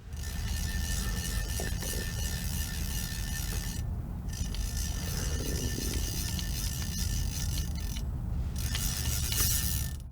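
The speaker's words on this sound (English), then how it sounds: "I'd say this is one of the most muted reels out there on both incoming and outgoing" A Greys Tital saltwater fly reel spins with its drag engaged, giving a continuous muted mechanical clicking and whirring that runs steadily throughout, close and fairly loud, with brief breaks in the higher texture.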